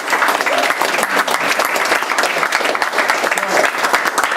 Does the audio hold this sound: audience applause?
yes